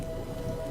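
Steady rain hissing in the video game Three Fourths Home, a soft, even wash of falling drops that holds constant through a brief moment with no speech.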